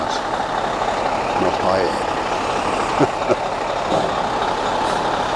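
A heavy truck fitted with a Fassi crane on a house-moving job: its engine rumbles steadily, with brief hisses, clanks and a faint beep, while someone speaks briefly nearby.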